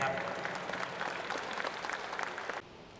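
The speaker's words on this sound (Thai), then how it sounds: "ขอเสียงปรบมือให้กับภาพประวัติศาสตร์ภาพนี้ด้วยครับท่านผู้มีเกียรติครับ" An audience claps steadily at a formal ceremony for a short film camp, dense even applause that stops abruptly near the end.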